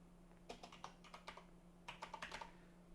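Computer keyboard typing in two quick close bursts of crisp keystrokes, faint and alone over a steady low hum, no talking.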